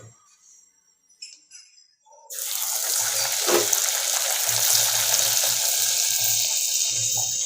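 Wheat poori dropped into hot oil and puffing up as it fries: after two quiet seconds with a few small clicks, a loud, close, steady sizzle bursts in and continues, with soft low bubbling pulses underneath.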